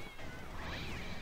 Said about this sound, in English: they give you like such a real noise of cat being hurt